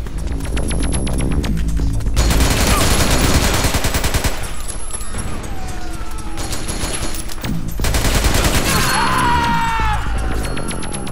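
Automatic machine gun fire in the Metal Gear Online video game, with dense continuous bursts of gunfire layered with explosive crashes and a whining tone, loud and close across the whole stretch.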